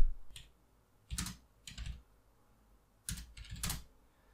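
A for loop typed on a computer keyboard, four short clusters of crisp key clicks separated by silent gaps, close and fairly quiet.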